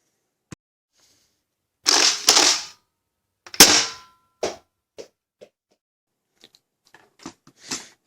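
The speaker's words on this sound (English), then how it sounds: "Open this blaster." A Nerf Rival Fate blaster is pried open with a series of sharp plastic cracks, snaps and clicks, loud and close, spaced irregularly between quiet pauses.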